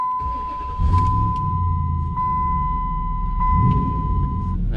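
Dodge Ram truck fitted with a new fuel pump cranks briefly and catches, its engine settling into a steady close idle, with a constant electronic chime tone running over it.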